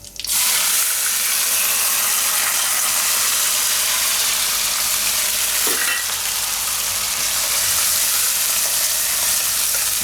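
Onions with cumin and curry leaves hit hot oil and sizzle loudly and steadily, a dense close crackle that continues without a break and with no talking.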